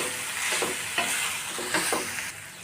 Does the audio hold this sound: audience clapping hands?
no